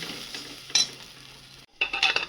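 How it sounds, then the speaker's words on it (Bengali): Pointed gourd mash frying in a pan crackles softly while a utensil scrapes and clinks against the metal in a few short bursts, with a brief pause before louder stirring resumes. "পুরো ভাজতে ভাজতে আমার পটলের ভর্তা এইটুকুতে এসে দাঁড়িয়েছে"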